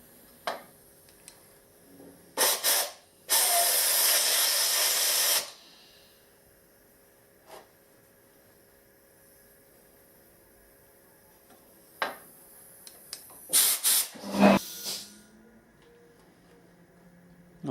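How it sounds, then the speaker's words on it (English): Compressed air blasts solvent out of a cleaned threaded hole during a thread repair: one loud sustained hiss of about two seconds, preceded and followed by several short sharp puffs and ticks. "so now I'm just going to blow it clear"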